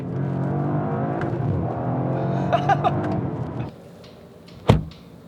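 A 2021 Audi RS4 estate car engine drones with rising revs as it drives, then drops away abruptly, followed by a single sharp thump like a door shutting.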